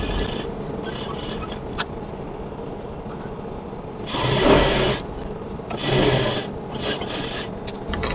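A sewing machine stitches kameez fabric in two short, whirring runs against a low, rustling background of cloth being handled, with no talk.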